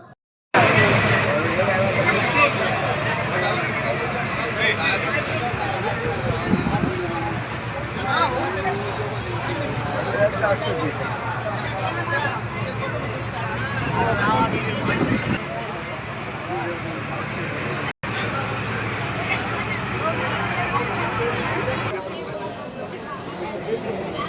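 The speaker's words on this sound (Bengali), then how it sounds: "আর আমাদের লঞ্চ ছেড়ে দিয়েছে" A passenger launch boat pulls away from the jetty at Kanyakumari, its steady engine drone and rushing wind and water running continuously and loudly, with people talking aboard.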